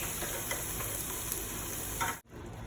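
Garlic sizzles in a frying pan with oil, a dense, steady crackling hiss that runs loud and close before cutting out briefly near the end.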